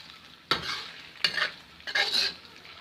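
Chicken frying in hot oil, stirred three times, each stroke bringing a sharp scrape and a burst of sizzling that fades between stirs; close and moderately quiet, no talk.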